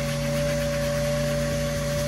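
A vacuum cleaner runs steadily during car interior detailing, a loud, close, constant motor whine with a steady tonal hum and no change over the short stretch.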